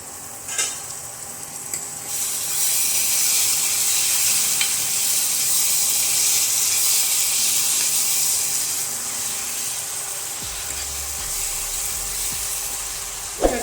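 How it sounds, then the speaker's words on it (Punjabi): Oil for a spice tempering for black-eyed pea curry sizzles steadily in a covered pan, a continuous hiss and crackle that softens slightly toward the end, with a clatter at the close. "ਤੇ ਹੁਣ ਆਪਾਂ ਤੜਕੇ ਨੂੰ 2 ਮਿੰਟ ਵਾਸਤੇ ਢੱਕ ਕੇ ਪਕਾਵਾਂਗੇ"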